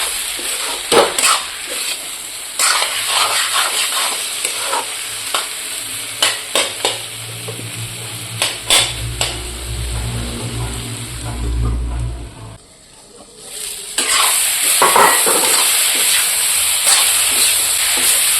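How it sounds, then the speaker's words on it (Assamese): Food fries in a hot pan for a home-cooked fish and vegetable curry, with a steady loud sizzle, a clatter of stirring and spatula scrapes against the pan, and a brief lull before the crackling returns. "দেখিছোঁ একদম কাঢ়াকৈ ভাজি লৈছোঁ"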